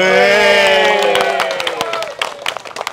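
An audience at a car-event stage show claps in scattered, uneven bursts that follow a sustained, held tone, and the clapping fades in and out.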